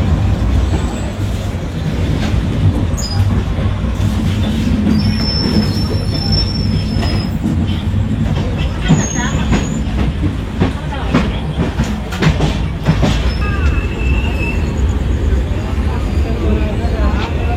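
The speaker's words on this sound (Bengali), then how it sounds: "এখন আমরা টাটা ডিপার্ট করে বেরোচ্ছি, টাটা 2 নম্বর প্ল্যাটফর্ম থেকে" Neelachal Express pulling out of Tata platform 2, loud continuous rolling and clatter with several high wheel squeals, heard from on board with some voices in the background.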